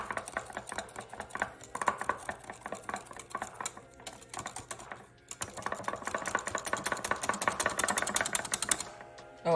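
Sweet potato puree being mixed and whisked in a bowl for cinnamon rolls, a rapid, busy run of clicking and scraping strokes that pauses briefly midway and then resumes, close and fairly loud.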